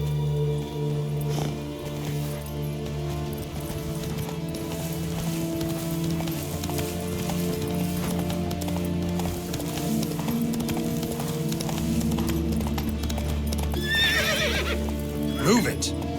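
A horse in The Witcher 3 clip-clops steadily along with rain in the background, then gives a sharp whinny near the end, and a voice speaks briefly over it.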